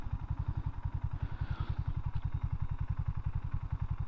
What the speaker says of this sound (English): Got a nice sort of scrambler grunt to it.